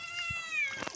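Cat giving one drawn-out meow while being bathed, a short wavering cry at moderate distance with faint thuds of splashing around it.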